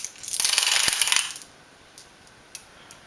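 Six dice rattle and roll across a surface for a dice game, a close, bright clattering burst of about a second followed by a few scattered small clicks as they settle.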